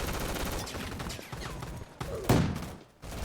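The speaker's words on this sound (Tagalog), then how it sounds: "Sumbaril lang ako, sniper." Sniper rifle gunfire in a video game, a loud crack with a booming tail over a busy game soundscape, preceded by rapid firing.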